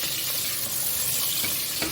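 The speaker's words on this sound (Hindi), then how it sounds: "मटन को हम इसमें डाल के फ्राई करेंगे।" Mutton pieces frying in a pan of hot oil for a chana dal gosht curry, a steady dense sizzle running loud and unbroken for the whole stretch, with small spatters and stirring clatters near the end.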